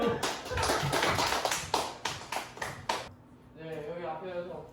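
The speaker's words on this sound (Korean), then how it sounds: "자 잘했죠 박수" Middle school students in a coding club clap together in a steady burst of hand claps that ends sharply, and a voice then speaks alone.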